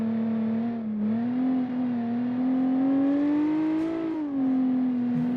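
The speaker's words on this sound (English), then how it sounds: "This V6 noise is really awesome." A V6 car engine revs in a driving video game, a loud steady drone that dips briefly, climbs as the revs rise, then eases back, heard alone without talk.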